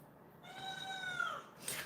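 A cat in a house full of cats lets out one drawn-out, wavering yowl that lasts about a second. The yowl sounds close and moderately loud, and a brief rustling noise follows it.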